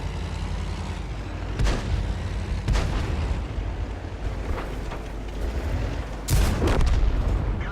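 Tank cannon blasts and booming gunfire in the World of Tanks video game, several heavy low shots spaced out over a continuous rumbling engine and battle din, loud and close.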